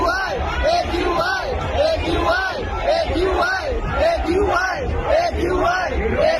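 A big crowd at Arun Jaitley Stadium shouts in rhythmic, repeated chant bursts, a dense roar of many voices that runs steadily throughout, with no single speaker standing out.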